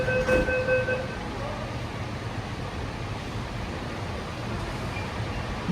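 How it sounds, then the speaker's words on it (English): An automated, driverless six-car Alstom Metropolis train on the Sydney Metro gives a steady, rushing rumble of running on the rails, with brief chime-like tones near the start. "here's our completely automated 6-car train. These were built by Alstom, who calls them the Metropolis."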